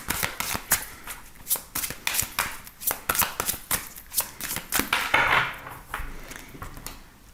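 Oracle cards are shuffled by hand in quick, rhythmic bursts of soft riffling and slapping, about a dozen close, crisp strokes in a quiet room with no speech.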